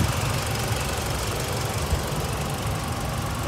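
A 2018 Mitsubishi Outlander engine idling with the hood open, a steady close mechanical rumble with a fine ticking texture and no talk over it.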